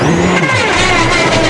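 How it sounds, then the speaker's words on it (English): Rally car with a broken wheel during the 2006 WRC Rally Sweden on a snowy special stage, loud close engine roar with grinding, scraping noise and shifting pitch throughout a brief burst. "But that's the sound of a broken wheel"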